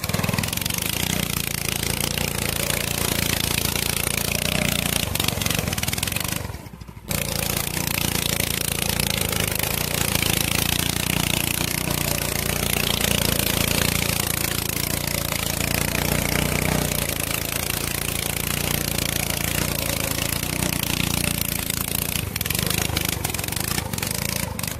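Barstool racer engine running loud and rough with its tailpipe fallen off, a steady raw buzzing drone that briefly cuts out near the seventh second and then continues unbroken to the end.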